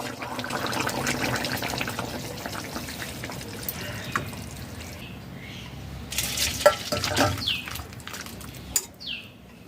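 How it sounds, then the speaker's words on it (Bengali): A spoon stirs mustard rohu fish curry simmering in a pan, giving a low bubbling sizzle throughout, then louder scraping and clinking strokes toward the end. "করে নাড়িয়ে গ্যাস অফ করে দিতে হবে"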